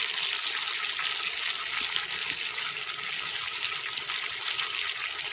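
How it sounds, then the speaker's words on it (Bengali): Potatoes fry in oil with salt and turmeric, giving a steady, close sizzle that holds evenly throughout with no talk. "আলুটাকে ভালো করে ভেজে নেব"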